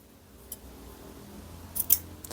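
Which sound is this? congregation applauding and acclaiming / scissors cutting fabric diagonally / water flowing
scissors cutting fabric diagonally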